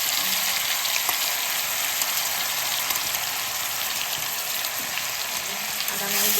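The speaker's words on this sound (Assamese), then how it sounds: "এতিয়া মছলাখিনি দি পেলাই ধুনীয়াকৈ মছলা ভাজিব লাগিব।" Masala frying in hot oil in a wok makes a loud, dense, continuous hiss that holds evenly from start to finish, with no talk over it.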